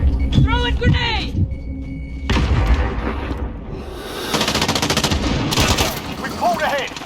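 Uzi submachine gun in the shooter game Modern Warfare rattles off rapid automatic bursts, loud and close, mixed with other game effects and voices.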